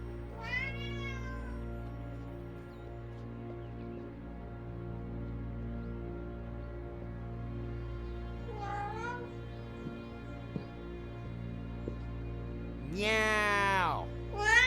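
A cat meows in the video game Alfred Hitchcock: Vertigo: a clear meow near the start, another around the middle and a loud drawn-out one at the end, over a low steady ambient hum, with a voice speaking briefly.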